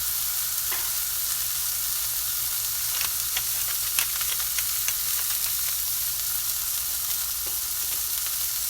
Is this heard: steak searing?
yes